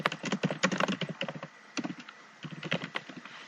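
Keystrokes on a computer keyboard while typing a comment in Google Docs: close, rapid bursts of clicking taps with brief pauses between runs, no voices.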